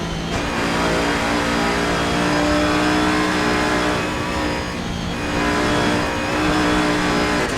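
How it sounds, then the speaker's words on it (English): A heavy race car accelerates hard up a mountain climb section of a circuit race, its engine roaring loud and continuous with a brief dip before revving up again. "You can hear how heavy this car is to get back on the power through the mountain section"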